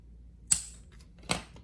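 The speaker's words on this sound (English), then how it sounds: "just trim the excess with a pair of scissors" Scissors trim excess thread from a handmade leather wallet. Two crisp, quiet snips sound close by, about three-quarters of a second apart, with near silence around them.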